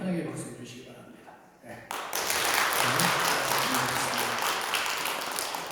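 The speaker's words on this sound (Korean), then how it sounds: "인사할 때 우리 환영의 박수 해주시기 바랍니다." A church congregation bursts into welcoming applause during a Sunday service, the clapping starting abruptly after a brief lull and continuing loud and dense, with a voice heard beforehand.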